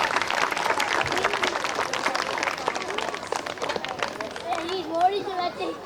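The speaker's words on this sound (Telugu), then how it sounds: "చప్పట్లు చప్పట్లతో ఆహ్వానిద్దాం" Audience applause at a Hindu community gathering held at a Hanuman temple in Mamidipalli, Armoor, as guests are invited onto the stage; dense, steady clapping fills the clip, with a voice speaking faintly over it near the end.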